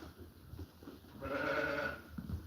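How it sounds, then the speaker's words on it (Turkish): A young lamb bleats once in a single drawn-out, wavering call at close range, set against quiet farmyard background noise with no talking. "Bu bizim ilk kuzumuz."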